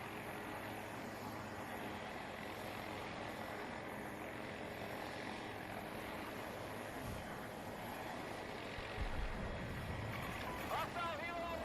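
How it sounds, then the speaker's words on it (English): Hostile helicopter in a military shooter game, its rotor and engine drone steady and fairly loud throughout over dense game noise, with a few sharper bursts near the end. "Hostile helo located."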